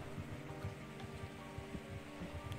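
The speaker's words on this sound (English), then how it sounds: "I suddenly hear the sound of rain." Steady rain falls in a Steins;Gate video game scene, a continuous soft hiss with scattered drop patters running throughout at a moderate, even level.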